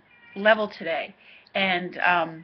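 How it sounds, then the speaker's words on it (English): A pet cat meowing to be let inside, two drawn-out meows in quick succession, close and clear, with a person talking around them. "it's my cat meowing to come in"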